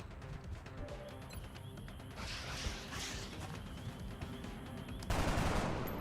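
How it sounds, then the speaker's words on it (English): A sniper rifle fires in the video game XCOM Long War. After a few seconds of clattering mechanical game sounds and rumbling, a sharp, loud shot bursts out near the end. "See, if the sniper had hit, we might have killed that guy."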